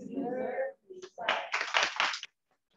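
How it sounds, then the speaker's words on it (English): Audience applause at a women's networking meeting: a short burst of clapping of about a second follows a speaking voice and then stops abruptly. "You deserve these claps."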